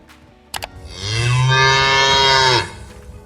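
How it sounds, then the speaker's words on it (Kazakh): A cow gives a single long, loud, low moo close by, swelling and holding steady for over a second before fading out after a couple of short clicks, in a children's animal-sounds cartoon. "сиыр"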